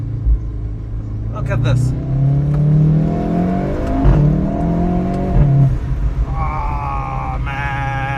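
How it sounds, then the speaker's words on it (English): VW Golf 7.5 R engine and exhaust revving from inside the car, a deep rumbling roar that rises and falls in pitch, with someone talking briefly over it. "That exhaust, just want to roll down my window for a bit."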